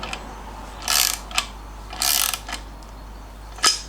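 Torque wrench ratchet clicking in short bursts while engine bolts are snugged down toward 40 Nm on an MGB engine and gearbox refit, with three main ratcheting runs and a few lone clicks, close and fairly loud.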